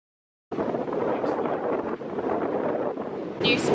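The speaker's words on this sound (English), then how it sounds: "New spot is way too windy up here." Steady wind buffets the microphone in a continuous rushing roar, with no other clear sounds.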